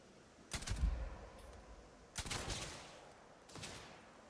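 Rifle fire in the sci-fi shooter Starfield: three separate sharp shots or short bursts, well spaced, each followed by a brief echoing tail, with no talk over them.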